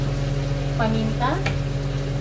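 Beef tomato stew (kinamatisang baka) stirred in a frying pan, a steady low simmering sizzle with a few faint scraping strokes of the spoon.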